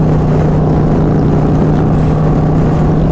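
A Harley-Davidson with a stage 2 upgrade, a Low Rider ST or Road Glide, riding under power: a loud, constant close engine roar with a low steady drone, no voices.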